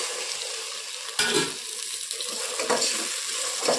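Vegetables frying and sizzling in a pot for chicken fry piece biryani, a dense close hiss with a few louder stirring bursts, steady throughout with no talk.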